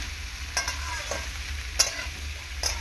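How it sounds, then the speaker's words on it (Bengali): Snake gourd stirred and fried in fish oil, a steady close sizzle broken by a few sharp scraping strokes of the spatula against the pan at irregular intervals, with no voices. "ভালো করে প্রথমে তেলের মধ্যে এরকম নাড়াচাড়া করে নেব চিচিঙ্গেটাকে"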